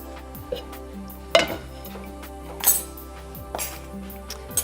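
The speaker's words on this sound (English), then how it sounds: "So I'll just move the stock out of the way for a second while I fry the mushrooms." A pot of stock is shifted aside on a stovetop, with several close metallic clinks and scrapes of cookware over a steady low kitchen hum, and no talk.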